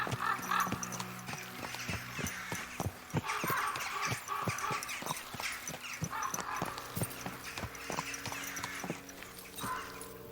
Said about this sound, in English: That's stags over there. Deer.